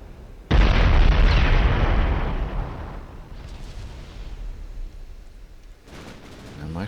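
A warship fires HE shells in the naval battle game Ultimate Admiral Dreadnoughts: one sudden, loud, deep boom that rolls and fades slowly, followed by a fainter distant rumble and a second burst near the end, with no talking.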